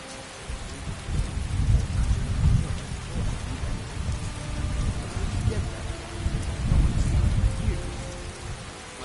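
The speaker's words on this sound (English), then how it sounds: "Now that obsidian weather package is supposed to add all this fog, like when you get a real heavy rain." Heavy rain and rolling thunder in the video game Skyrim with the Obsidian Weather mod, a dense steady downpour with deep rumbling swells building and fading throughout, no talking.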